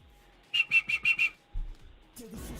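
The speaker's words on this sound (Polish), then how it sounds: "Co ty gwizdzasz?" A person whistles five quick, high, even notes in a row to call a dog, then brief rustling and handling noises follow.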